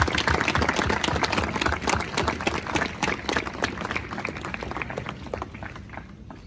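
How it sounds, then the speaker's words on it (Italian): A crowd at the inauguration of a statue of Padre Michelangelo at the Cappuccina in Domodossola claps steadily, loud and dense at first, then gradually thinning and fading out. "Facciamogli un applauso"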